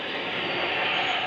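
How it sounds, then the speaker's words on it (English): An EasyJet airliner at Gibraltar airport prepares for takeoff, its engines producing a loud, steady broadband roar that holds constant throughout without pause. "EasyJet getting ready for takeoff"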